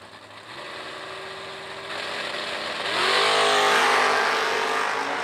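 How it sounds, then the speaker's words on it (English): Drag race cars including a white Camaro roar loudly, engines building from a steady rumble to a rising high-revving blast as they launch and accelerate away, no voices. "We got another drag race"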